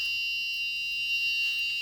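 A home security alarm system's buzzer sounds a loud, steady, unbroken high-pitched tone at close range, with nothing else heard.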